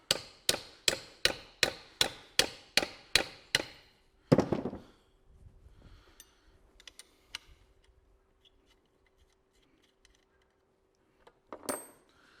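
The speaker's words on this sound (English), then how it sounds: "Just using the weight of the hammer now." Nine quick, evenly spaced metallic taps from a hammer on a rusty Volkswagen Golf wiper part ring out close by, followed by a louder clank, scattered faint clicks, then one last knock.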